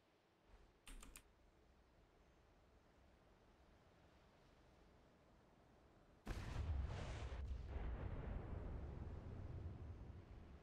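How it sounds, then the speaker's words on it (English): Naval ship guns fire in a video game: a few faint clicks early on, then one sudden loud boom with a deep rumbling tail that lingers for several seconds. "I will say the gun sound amazing."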